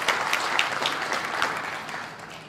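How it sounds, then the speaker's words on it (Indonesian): Steady, dense applause from a seated conference audience fills the whole stretch at fairly close range, with no talk over it. "Tepuk tangan yang keras, kita harus semangat tuh."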